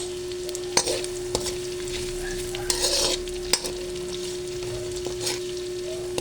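Ginger frying and being stirred in a pan for sinampalukang manok, a soft steady sizzle broken by several sharp scraping strokes and knocks of the utensil against the pan.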